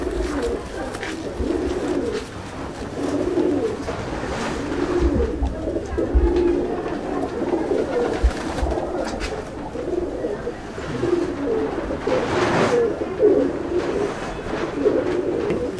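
Chennai breed pigeons cooing steadily in a loft, soft low murmuring calls overlapping from several birds close by, with occasional wing flutters and light rustling.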